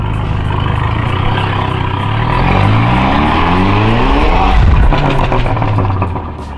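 A car with a 1.8T engine pulls away hard, its engine revving loudly up through rising pitch, then shifting and climbing again, close and dominant throughout.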